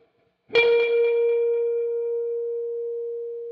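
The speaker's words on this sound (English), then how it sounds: "you can hear it just rings out for like forever" One instrument note with compressor sustain turned up, plucked once and ringing out alone with a long, even tone that barely fades.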